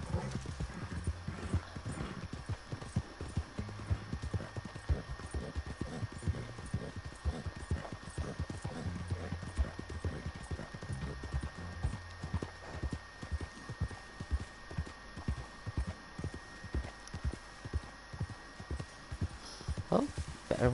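Rapid rhythmic hoofbeats of a galloping horse in the video game Red Dead Redemption 2 continue steadily over a low hum, fairly quiet and without talking.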